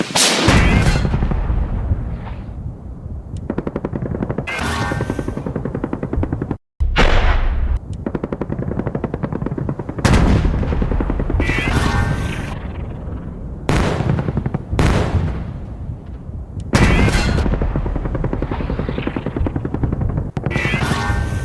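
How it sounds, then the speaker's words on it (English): Ukrainian Leopard tank opening fire on a Russian armored convoy: loud, booming cannon blasts and bursts of gunfire repeat roughly every two to three seconds, with heavy rumbling between them and a brief near-silent gap. "a Ukrainian Leopard tank spots them and opens fire"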